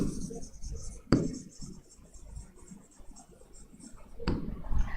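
Chalk or marker scrapes and taps against a board as a word is written during a chemistry lecture, a few short strokes with sharp knocks near the start and the end, soft and close, with faint voice murmurs in the background.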